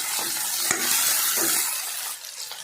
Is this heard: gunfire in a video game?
no